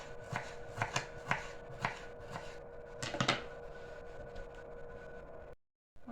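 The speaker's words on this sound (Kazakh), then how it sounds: "Мынандай сондай етіп тураймыз." A knife chops food on a board for a sour cream pie, making about a dozen crisp, close taps in an uneven rhythm over faint background hum before a short silence.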